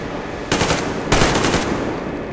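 Enemy gunfire in the shooter game Metro Exodus: two loud, close bursts of rapid automatic fire, each lasting about half a second, separated by a short pause over a steady background rumble.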